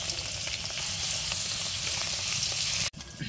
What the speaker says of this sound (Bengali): তেল গরম হয়ে গেছে, এখন মাছগুলো দিয়ে দেই